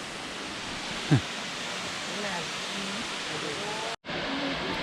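A waterfall in Khao Yai National Park during the low season gives off a steady broadband rush, loud and constant, with voices faintly mixed in and a brief cut near the end.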